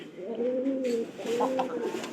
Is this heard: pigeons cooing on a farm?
yes